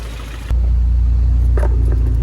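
A Honda CRX with a swapped DOHC ZC engine idles up close, a steady low rumbling hum that jumps in loudness as it catches and then holds evenly.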